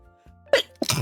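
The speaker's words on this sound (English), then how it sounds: "Got to sneeze." A single person's sneeze, a sharp inhaled build-up followed by a loud burst, close to the mic and alone in an otherwise quiet room.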